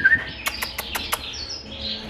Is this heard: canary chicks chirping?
yes